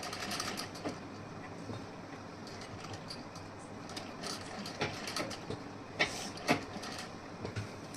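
A sewing machine stitches a blouse sleeve in a steady, low mechanical run, close and moderately loud, with a few sharper clicks and thumps near the end.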